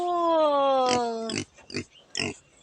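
A long drawn-out squeal from a pig followed by several short, harsh grunts, close and loud, with a voice in the background.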